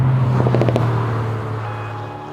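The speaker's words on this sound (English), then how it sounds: "It's got a really strong, raspy bark to it. This car's got the active sports exhaust" An Alpine A110 sports car with active sports exhaust rumbles steadily at close range, with a few sharp raspy pops early on before settling into a low, continuous drone.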